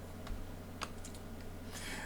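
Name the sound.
typing on a computer keyboard in Microsoft Word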